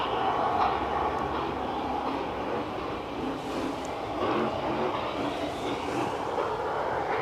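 Airbus A350 airliner engines at Edinburgh airport, a steady broadband roar that swells slightly partway through, sustained and fairly distant with no voices over it.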